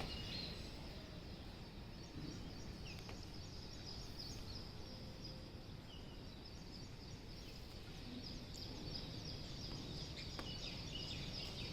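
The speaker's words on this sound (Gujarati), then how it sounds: "ચકલીઓનો ચીચી અવાજ" Sparrows chirp faintly in the distance over a constant outdoor hiss, with scattered short tweets and no talking.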